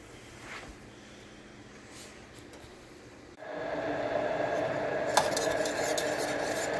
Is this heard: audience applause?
no